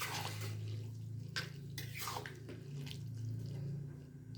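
A pot of water on a boil, bubbling and gurgling steadily up close with soft wet pops and splashes over a low continuous hum, no voices.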